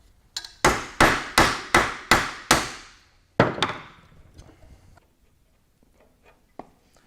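Seven sharp metallic hammer blows in a quick even rhythm on VW engine sheet-metal tin clamped in a bench vise, a pause, then two more strikes, close and loud, followed by faint handling noises.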